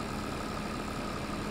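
Small tractor engine pulling a sprayer in Farming Simulator 22, a steady droning hum that holds constant and even throughout with no talking.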